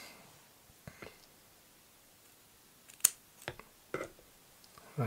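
Wire or material being snipped to width during a build of an MTL rebuildable tank atomizer, with a few sharp, quiet cutting clicks, one louder snip in the middle, in an otherwise quiet room.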